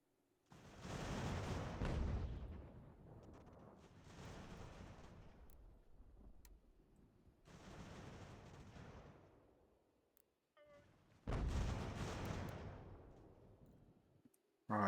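Four heavy booming blasts of cannon fire in Ultimate General: American Revolution, each a broad rumbling burst lasting a couple of seconds, separated by short pauses, loud and close.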